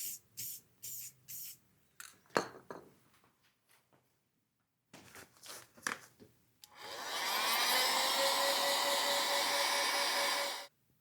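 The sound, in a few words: spray painting thin coats of paint on speedometer parts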